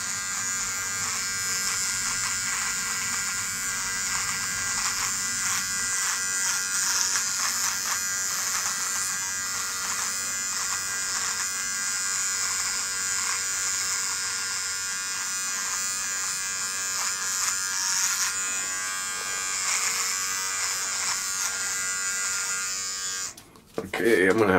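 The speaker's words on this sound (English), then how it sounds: "I'll just shave half my face real quick and then check it in the mirror." A Dollar Shave Club Double Header electric trimmer buzzes steadily across a face for over twenty seconds. The drone is close and constant, and the pitch shifts slightly as the trimmer moves over the skin.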